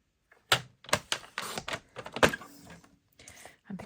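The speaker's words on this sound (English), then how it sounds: "And then I'll use my trimmer to just cut that." A paper trimmer slices through card in a quick run of sharp clicks and crisp cutting swipes, close and fairly quiet, with short pauses between strokes.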